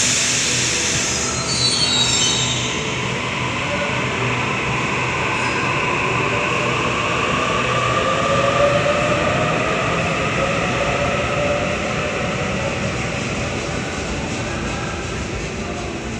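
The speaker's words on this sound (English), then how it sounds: "Reesby service departing platform 6." At Wynyard station platform 6, a train pulls out with a loud, sustained rumble of wheels on rails and rising metallic squeals, heard up close throughout.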